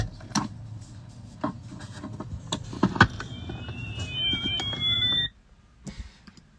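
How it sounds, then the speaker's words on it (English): An electronic Battleship game plays its ship-sinking sound effect, a series of descending synthetic tones and bleeps layered over background clatter and household noise, ending abruptly after about five seconds. "This is the sound of the battleship sinking."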